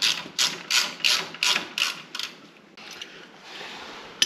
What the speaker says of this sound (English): Now I go back and get my 5/16 to tighten that back up.